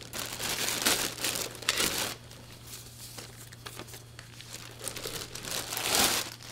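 A plastic bag packed with camera lens hood parts is handled up close, giving bursts of crisp crinkling and rustling between quieter moments.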